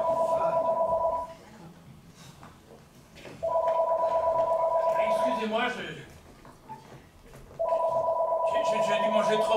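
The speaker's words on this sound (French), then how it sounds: "C'est pas toi, c'est le téléphone!" A telephone rings loudly in repeated long bursts with pauses between them during a French stage comedy, while voices talk and exclaim in the gaps and over the rings.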